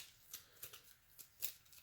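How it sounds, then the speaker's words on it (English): Playing cards are shuffled during a tabletop card game with X-Men cards. Soft papery riffles and swishes repeat at an irregular pace, faint and close, with no voices. "A lot of shuffling early on in the game."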